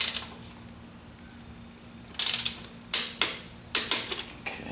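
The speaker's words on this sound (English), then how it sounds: "What I'm going to do now is torque down those the main 3 bolts" A torque wrench ratchets on the distributor bolts of a Honda Civic. After a quiet start, close, crisp clicking bursts repeat in short runs of rapid ticks, with no speech.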